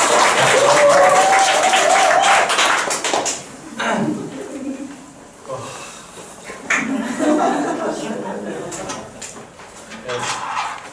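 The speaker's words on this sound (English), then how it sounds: "maybe a round of applause" Applause at a conference presentation by high school students rises loud and dense, then tapers into scattered claps with brief chuckles and murmuring voices.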